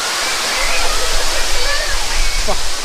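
Namma Falls in the Kolli Hills roars as a broad, steady rush of falling water, loud and close, with faint voices and birdlike chirps partly buried in the spray.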